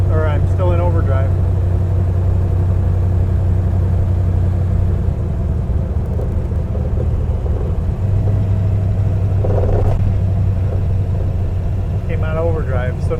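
Plymouth Road Runner with a swapped-in overdrive transmission cruising down a road in overdrive, a steady low engine drone and road rumble throughout, with brief talk from the driver over it.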